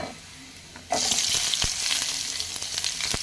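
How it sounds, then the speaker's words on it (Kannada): Crushed garlic and onions hit hot oil in a pan with a sudden loud sizzle after a quiet start, then fry in a steady close crackle with occasional stirring taps. "ಈಗ ಜಜ್ಜಿರೋ ಬೆಳ್ಳುಳ್ಳಿ ಹಾಕಿ ಫ್ರೈ ಮಾಡಿ. ಈಗ ಈರುಳ್ಳಿನೂ ಹಾಕೊಳ್ಳಿ."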